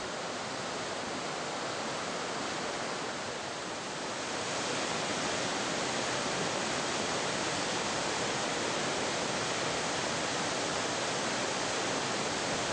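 Steady, dense rush of falling water from Emerald Pool, a small 6-meter waterfall at the base of Morne Trois Pitons mountain, heard close and loud as an unbroken roar for the whole stretch with no voices.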